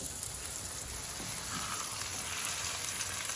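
Potatoes fry in a pan with a steady, dense sizzle that runs close and unbroken, with no talking.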